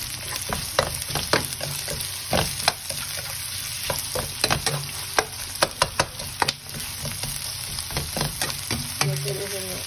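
Garlic and onions fry in a pan for a Thai basil chicken stir-fry, with a steady close sizzle broken by frequent sharp scrapes and clicks of stirring.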